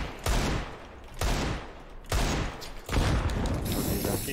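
Gunfire in a zombie-themed multiplayer video game, heard as repeated loud bursts of rapid shots, each lasting close to a second, with mechanical clatter between volleys and no talk over it.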